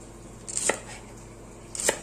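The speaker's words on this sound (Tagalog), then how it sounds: "hihiwain naman natin yung pichay" A knife slices through pechay, Chinese cabbage, on a board, giving two crisp chopping strokes a little over a second apart, close and fairly quiet against a soft room hiss.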